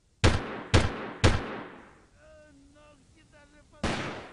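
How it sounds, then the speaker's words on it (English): Gunfire in the Delta Force 2 video game from the enemy and Charlie team: three sharp, loud shots in quick succession, then a quiet stretch of faint tonal game sounds, then another loud shot at the end. "The shots sound different actually the enemy shots and well Charlie team shots at us"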